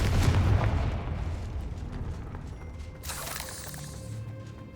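A Confringo fire spell in Hogwarts Legacy bursts with a booming blast at the start, followed by rumbling debris and a sharp crackling burst a few seconds later in a dim catacomb.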